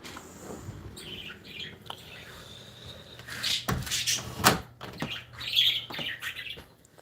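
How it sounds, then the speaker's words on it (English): Pet birds chirping and tweeting inside a house, scattered bright calls rising over a low room hum, with cupboard or door knocks and movement nearby. "we'll sit in here and listen to my birds."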